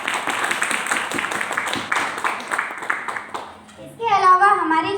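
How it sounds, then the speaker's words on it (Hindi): An audience claps in a dense burst of applause for a few seconds, fading out as a voice begins speaking. "एक बार जोरदार तालियां तो बनती हैं।"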